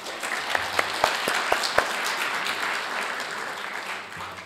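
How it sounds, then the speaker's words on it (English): Applause from a conference audience, a scattered burst of clapping that settles into a steady patter and then tapers off. "Please, a round of applause."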